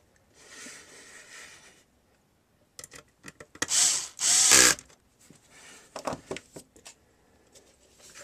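Power screwdriver with a T10 bit driving screws while reassembling a Philips HDRW720/17 DVD recorder with hard drive: short whirring bursts and ratcheting spins, two loud runs in the middle, scattered clicks and handling noise between, close and alone.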